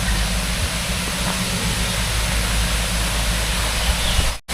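A waterfall at Tham Narai temple roars as a loud, steady, broadband rush of falling water, close and unbroken until it cuts out abruptly at the very end.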